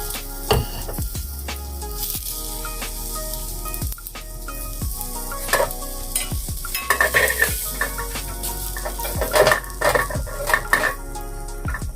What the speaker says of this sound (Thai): เดี๋ยวเราจะเอาหอมกระเทียมกับพริกชี้ฟ้านี้ไปคั่วก่อนนะคะ